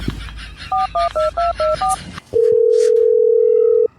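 Six short two-tone dialing beeps in a steady rhythm, then a brief pause and a long continuous telephone tone, clear and close.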